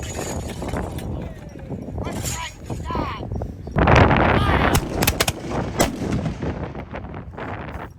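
A battle reenactment fills with musket gunfire: scattered loud bangs and a heavy volley burst over shouting voices and general commotion, with people yelling orders throughout.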